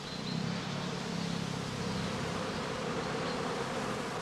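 A steady, dense buzz of a honey bee swarm pouring from a straw skep in a house apiary, continuous and fairly loud throughout with no voices.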